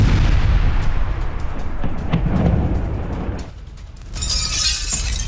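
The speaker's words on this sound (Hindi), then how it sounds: "मॉस्को में ड्रोन हमले के बाद बड़ा धमाका भी देखने को मिल रहा है" A loud, heavy blast rumbles and crackles with debris, then fades before a hissing noise rises at the end.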